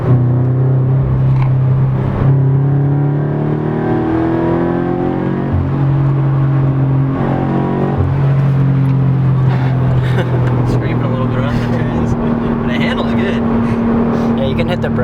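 A Subaru BRZ running on E85 fuel accelerates on the road, its engine note climbing through gears in rising tones with shifts, loud and constant in the cabin, while people talk over it.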